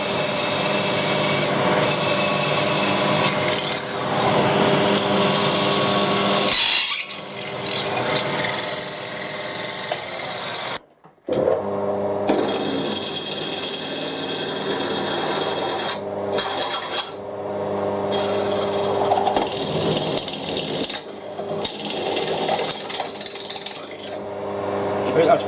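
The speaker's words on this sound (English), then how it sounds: "that's both 12mm holes drilled" Drilling 12mm holes in steel for a trailer hitch, a loud close grinding drill sound that runs almost continuously, broken by one short pause and a few changes in pitch and load.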